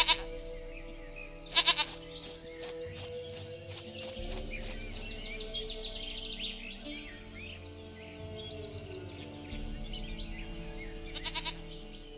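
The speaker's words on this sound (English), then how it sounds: "Goat of mine, dearest," Goat bleating in The Witcher 3 video game: two short, sharp bleats, one near the start and one near the end, over a steady background of game music and ambience.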